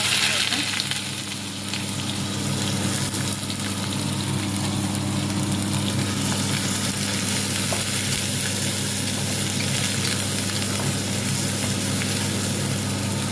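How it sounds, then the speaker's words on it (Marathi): Onion fries in oil in a kadai, producing a loud, dense, continuous sizzle that holds steady throughout with a faint underlying hum, no voices. "कढईमध्ये थोडं तेल टाकलेलं आहे आता याच्यामध्ये आपल्याला कांदा"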